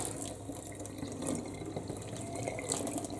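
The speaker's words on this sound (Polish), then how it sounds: "I teraz doleję jeszcze, zaleję moją wodą gorącą" Hot water poured from a kitchen tap into a clogged kitchen sink drain treated with citric acid, a continuous splashing rush that stays fairly even for several seconds with no talking.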